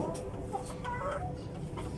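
Faint, intermittent clucking from a chicken rises over a constant low rumble, with soft scattered calls and no clear speech.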